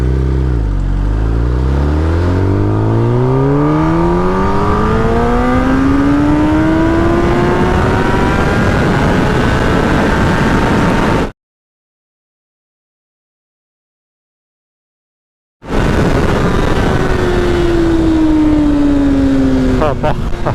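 A Kawasaki ZX10R motorcycle screams through first gear toward top speed, its engine pitch climbing steadily under load, cutting out briefly, then rising again, loud and close.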